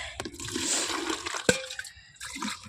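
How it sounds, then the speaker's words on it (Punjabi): Water splashes and gurgles as a few liters are poured into a cooking pot, a steady rushing pour with one sharp clank of the vessel partway through, close and fairly loud. "ਪਤੀਲੇ ਦੇ ਵਿੱਚ ਪਾਣੀ ਪਾਉਣ ਵਾਲਾ"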